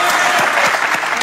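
An audience at a devotional singing gathering claps loudly and close by in a brisk, dense burst of applause.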